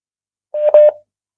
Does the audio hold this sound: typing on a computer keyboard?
no